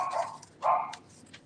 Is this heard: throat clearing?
no